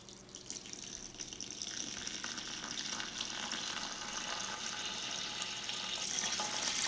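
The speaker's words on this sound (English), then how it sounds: "Going to very carefully add some distilled water in the back here. It's going to make its way in the tank." Distilled water is poured carefully into the back of a 5-gallon Fluval Sea Evo aquarium, a continuous splashing rush that grows slightly louder and brighter over several seconds, close by and with no talking.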